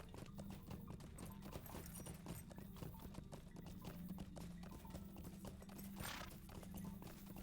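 Horse hooves clip-clop in a steady, rapid rhythm throughout in Lord of the Rings Online, dense and close, with a constant low hum beneath and a brief whinny-like swell near the end.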